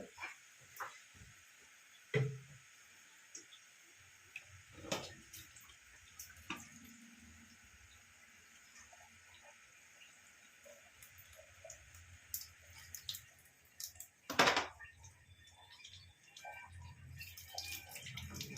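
A soy sauce bottle cap is rinsed under a running tap while Tibetan thukpa is being cooked, making faint trickles and splashes with scattered small taps and clicks, and a brief louder burst of water near the end.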